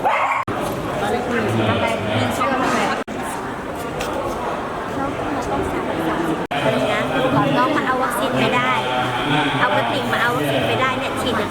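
Dogs bark, yip and whimper at a free dog and cat sterilization service, continuous and close, mixed with people chattering around them.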